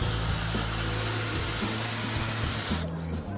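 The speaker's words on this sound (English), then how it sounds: "if you're drilling slate, it's very flaky" A power drill grinds loudly and steadily into slate with a harsh whine, then the high part of the noise cuts out near the end.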